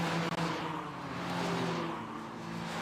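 TCR touring race cars going past at Croft circuit, engine drone rising and falling as they sweep by, with a steady tonal hum and a distant quality.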